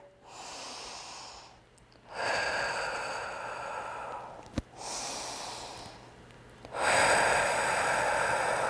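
Slow, deep breaths during a seated yoga twist with legs bound: long, loud breathy exhales and inhales alternating, with a sharp nasal snort in the middle and a stronger breath at the end, close and unaccompanied by talk.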